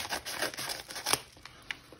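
Scissors cutting through the bottom of a mail package, a series of quick snipping and tearing sounds up close, moderately faint, with no talking.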